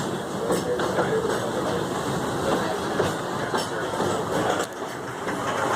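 A Walt Disney World park railroad train rolls along with a steady rumble and faint rhythmic clicks from the wheels, running continuously through the stretch.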